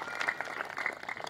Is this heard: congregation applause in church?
yes